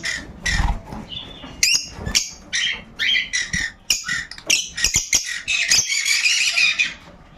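Pet birds squawking in a home aviary kept by a breeder of albino cockatiels and rosellas, with harsh, overlapping calls and shrill chirps in rapid bursts, close and loud, nearly continuous through the clip.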